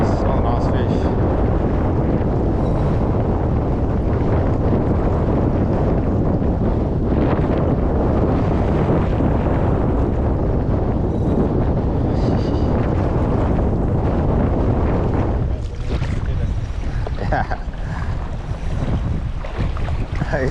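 Strong wind gusting across the Broadwater, buffeting the microphone with continuous loud roaring noise and water sounds throughout, a bit calmer toward the end.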